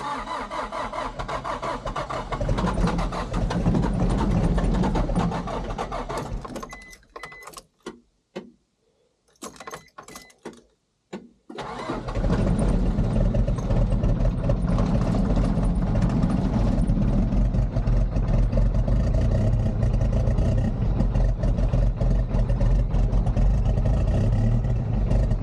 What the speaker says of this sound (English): Gotta warm up the truck or the van.